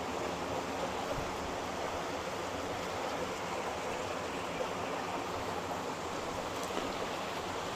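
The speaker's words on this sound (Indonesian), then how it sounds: "itu sumber air masuk utama yang dari sungai dari sini nih" Steady, continuous rush of river water pouring through the main inlet of a fast-flow pond farming pomfret in Bogor, fed by a river dammed at Ciampea; an even broadband wash, close and unbroken, with no voices.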